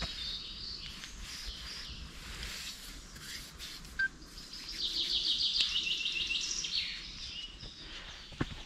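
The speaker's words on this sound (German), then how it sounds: "Außer den Vögeln ist nichts zu hören." Birds chirp and trill in a quiet outdoor setting, with varied calls at moderate distance and a soft background hush.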